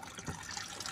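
Water runs out of a pipe in a guppy aquarium setup, a brief, faint trickling and splashing flow heard up close for under a second.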